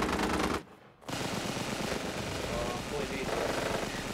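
Sustained gunfire in the battle royale game Cuisine Royale, dense and loud for most of the clip, cut by a short near-silent gap about half a second in, then resuming as continuous rapid shooting.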